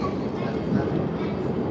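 A metro train rides along with a steady rumbling rail drone and faint clatter, heard close and continuous from on board.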